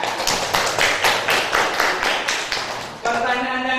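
Pupils in a classroom clap together in a quick, even rhythm of about a dozen close, loud claps, then the clapping stops as a voice starts talking.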